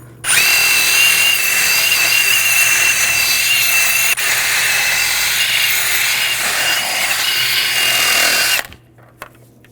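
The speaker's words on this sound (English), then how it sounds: "Now I'm going to take a wire brush. We're going to clean up the corrosion and rust buildup on the hub surface." A power-driven wire brush scours corrosion and rust off the hub face of a Volvo S60 during a parking brake shoe job, a loud steady whirring scrape lasting about eight seconds before it cuts off, followed by quiet.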